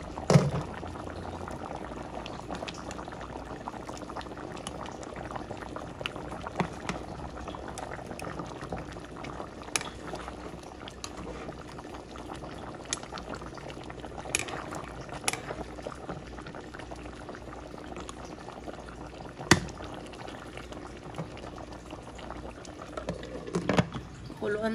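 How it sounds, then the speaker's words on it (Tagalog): A covered pot of sautéed tomato broth simmers on the stove, a soft continuous bubbling with scattered small pops and clinks throughout, fairly quiet and steady. "So yan, kumukulo na siya."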